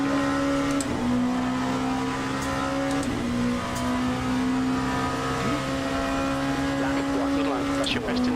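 A race car engine in a racing video game holds a steady high-pitched drone with faint rising whines near the end, loud and continuous throughout.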